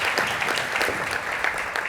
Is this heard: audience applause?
yes